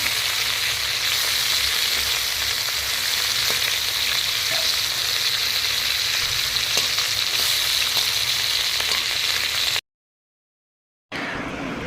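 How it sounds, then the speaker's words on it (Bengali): Fish fries in hot mustard oil with turmeric in a kadai, a loud, dense and continuous sizzle with faint stirring ticks, which cuts out abruptly for about a second and then returns. "মাছগুলো দিয়ে উল্টে পাল্টে লাল লাল করে একসাথে ভেজে নেব"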